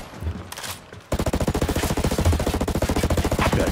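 Rapid automatic gunfire from the video game Ghost Recon Breakpoint, loud and close, a fast steady burst of shots that starts abruptly after a brief quieter stretch and continues without pause.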